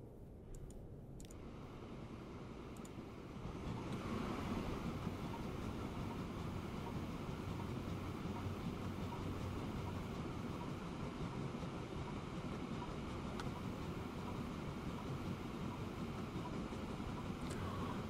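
A train in the game Transport Fever 2 runs with a steady rumble and rhythmic clicking that swells after a quieter start, then holds constant.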